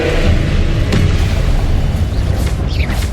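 A Confringo blasting spell explodes in Hogwarts Legacy, a loud, close, booming burst with heavy low rumble over about three seconds, with crackling debris following.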